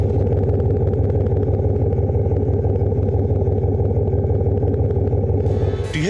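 A GMC vehicle's engine idles in casual mode rather than sport mode, giving a steady, loud, close rumble with a rhythmic mechanical clatter throughout and a brief shift near the end.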